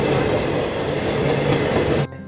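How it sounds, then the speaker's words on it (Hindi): The Rajrani Express, running from Nanded toward Mumbai, rumbles loudly past on the rails with a steady wheel roar and faint clatter, then cuts off abruptly near the end. "फिलहाल इस ओर से राजरानी एक्सप्रेस आ रही है जो कि नांदेड़ से मुंबई की ओर जा रही है।"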